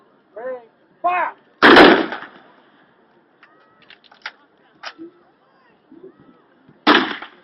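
Rifle volleys fired on command at a World War II weapon demonstration at an outdoor festival, with two sharp, loud gunshot bursts several seconds apart, each preceded by a voice counting off, and scattered clicks of rifle actions between.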